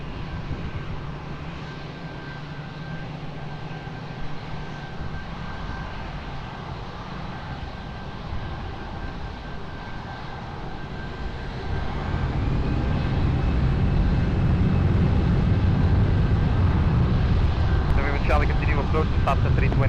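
An airplane takes off at Lisbon Airport. Its engine roar rises from a distant rumble to a loud, sustained roar midway through, with faint radio chatter in the background.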